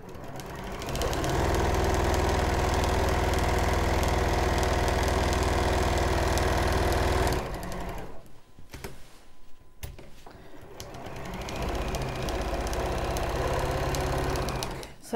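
A sewing machine quilts through a Christmas quilt panel and two layers of wadding, stitching around a tree's branches, running steadily and loud for about seven seconds, pausing with a few soft handling noises, then starting up again.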